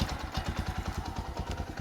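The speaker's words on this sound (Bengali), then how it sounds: "দেখো এখানে গাড়ি আওয়াজটা আছে ইঞ্জিনের," A Bajaj CT 110 motorcycle engine runs at dawn, a close, steady, fast chugging thump of single-cylinder firing pulses with a faint mechanical clatter and no speech.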